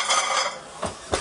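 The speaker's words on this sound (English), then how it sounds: "let's get flashy and chuck some plates in" Plates go into a warm oven with a short scrape followed by two crisp ceramic clacks, close and fairly loud, with no talk.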